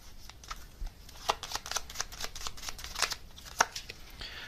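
A gummy bear tarot card deck being shuffled, with soft papery riffles and sharp card snaps coming in uneven bursts, close and fairly quiet, with no talking.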